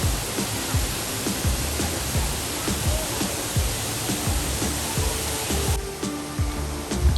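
Waterfall at Sohra (Cherrapunji) pouring steadily, a dense broadband rush of falling water that stays constant and close throughout, with faint low thuds mixed in and no voices.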